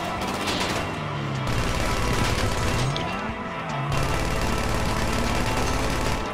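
Rapid gunfire blasts against a van in GTA V, a dense, loud fusillade of shots with machine-gun-like bursts running almost continuously, pausing briefly near the middle before resuming over a steady game soundscape.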